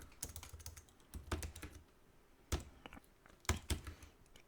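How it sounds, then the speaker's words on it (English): Quiet typing on a computer keyboard, with irregular clusters of light key clicks separated by short pauses. "Now I'm gonna type AWS Code"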